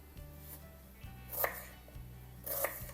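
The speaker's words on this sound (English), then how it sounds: "And now I'm going to chop the onion." An onion chopped with a knife on a cutting board in a home kitchen: a few sharp, close knocks spaced about a second apart over faint background hum.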